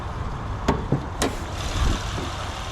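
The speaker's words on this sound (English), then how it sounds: "let me show you the motor too while it's running." Nearly 20-year-old Honda Accord engine idling under the hood, a steady low hum with a couple of sharp knocks or clicks nearby, close and alone.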